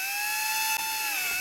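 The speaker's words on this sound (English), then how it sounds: "We'll take a drill, and we'll just drill into the plastic cap only." A power drill whines steadily at high pitch as it bores slowly into the soft plastic cap of a BMW E46 seatbelt buckle, the tone holding even and close with one brief dip.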